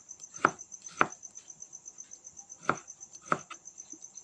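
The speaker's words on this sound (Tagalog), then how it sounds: "Yan ang ating hotdog. Hiwain na natin." A knife cuts through a cheesy hotdog on a cutting board, making four crisp, close chops spaced by pauses over a steady high-pitched background whine.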